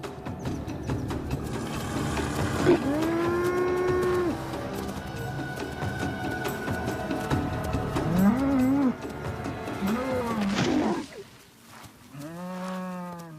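A cow moos several times, long drawn-out lowing calls, fairly close, with other livestock bleating faintly in the background.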